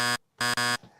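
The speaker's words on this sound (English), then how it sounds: "you remember that button that wasn't working on here before with the buzzer?" An electronic buzzer set off by a button that previously didn't work, sounding in two steady harmonic tones, one short and one longer with a brief break, followed by a short burst of a person's voice.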